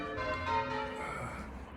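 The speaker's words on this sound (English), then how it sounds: "Do you think they're actually ringing the bells as good as I can ring them?" Church bells ringing in Bury, heard as overlapping sustained metallic tones with layered harmonics, fairly close and continuous over the short span with no talk.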